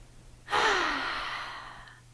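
A single deep inhaled breath taken by people, a sudden loud gasp-like intake that starts sharply and slowly fades as the air draws in, close and alone.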